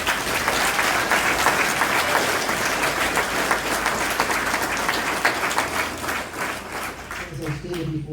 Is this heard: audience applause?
yes